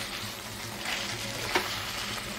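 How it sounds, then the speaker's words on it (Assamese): Spiced boiled chickpeas and bamboo shoot frying in a pan give off a steady close sizzle, with a brief stirring scrape partway through. "এতিয়া এইখিনি বঢ়িয়াকৈ আৰু ভাজি ল'ম অলপ"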